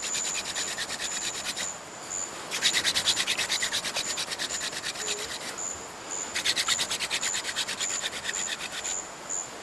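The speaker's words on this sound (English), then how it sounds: "When I drill, a powder will collect and that will eventually start to glow." A wooden friction drill is worked back and forth in the Amazon rainforest to make an ember, giving a close, rhythmic rasping rub in fast strokes, steady with brief pauses and no talk.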